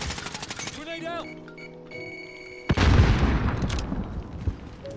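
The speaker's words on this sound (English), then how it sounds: "Grenade out." A grenade blast in the shooter game Call of Duty Warzone bursts loudly partway through, a sharp boom followed by rumbling debris, after a stretch of quieter gunfire and game tones.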